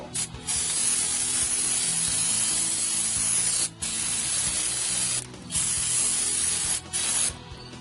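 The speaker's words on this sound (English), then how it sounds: "solvent like brake clean to kind of not only minimize that dust, but rinse it away and just keep it from becoming airborne" Brake cleaner solvent sprayed from an aerosol can onto front disc brake parts, a loud continuous hiss in long bursts with a few brief pauses, close and alone.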